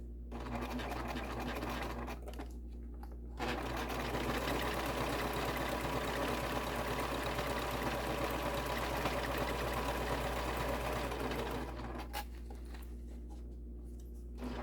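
A sewing machine runs along the bottom of a fabric Dewdrop wristlet in a close, continuous mechanical whir, with brief slowdowns early and near the end and no talking.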